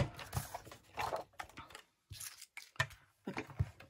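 Scissors snip through stiff card in short, irregular bursts with brief pauses between cuts, close and fairly crisp.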